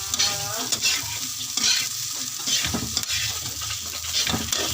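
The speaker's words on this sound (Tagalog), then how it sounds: "yung pinagprituhan ng tuyo ay gigisa din natin yung rice. Mix lang natin para maghalo yung mantika." Rice stir-fried in the oil left from frying dried salted fish, with crushed garlic, hissing steadily while a spatula scrapes and stirs it through the pan; continuous close sizzle with no talking.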